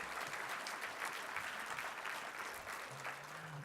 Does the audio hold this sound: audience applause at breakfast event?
yes